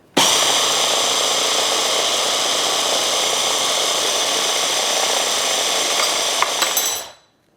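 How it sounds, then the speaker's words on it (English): A large food processor blends a sauce for blackened fish tacos, a loud, constant whirring motor roar starting abruptly and running steadily for about seven seconds before winding down, with no voices. "So we're gonna blend this until it's fully incorporated."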